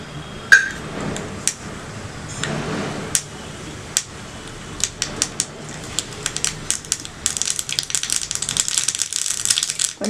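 Mustard seeds pop and splutter in hot oil for tempering, with sharp, irregular crackles that start sparse and grow into a dense, rapid patter, heard close up.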